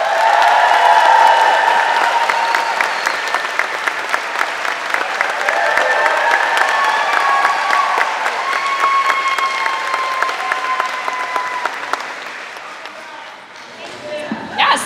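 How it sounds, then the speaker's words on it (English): A convention crowd at Con of Thrones applauds to welcome actress Hannah Murray, a long loud roar of clapping with some cheering that holds steady, then tapers off near the end under a voice. "Please give a warm round of applause to Hannah Murray."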